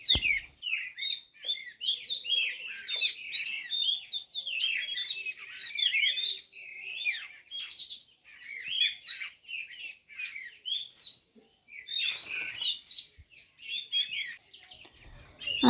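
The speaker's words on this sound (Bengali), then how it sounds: "পাখিগুলো গাছে বসে কিচিরমিচির করছে।" Birds chirp in village trees, with many overlapping high tweets and calls in quick, busy bursts, continuing almost without pause from near and slightly farther perches.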